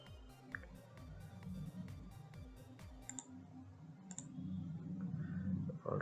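Clicking keystrokes on a computer keyboard, a quick run of distinct taps over the first three seconds, fairly close but quiet, then a few isolated clicks before fading into low background noise.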